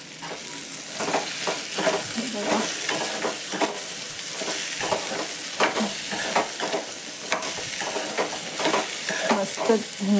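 Okra frying in a pan with onion and chillies gives a continuous sizzle broken by frequent scraping stirs at an irregular rhythm, close and fairly loud, with no talking.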